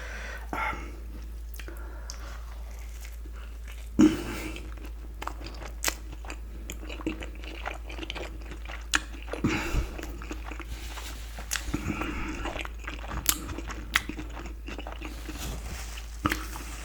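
Someone eats a wagyu burger close to the mic, soft bites and crunchy chewing recurring quietly and irregularly over a low steady hum.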